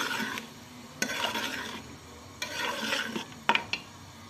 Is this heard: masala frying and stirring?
yes